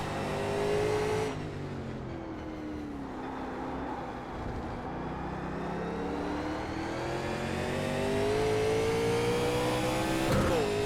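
A 1987 NASCAR Legends stock car engine at Road Atlanta in iRacing held smoothly on throttle, a loud, steady droning roar that dips after a gear change and then climbs gradually in pitch as the car accelerates.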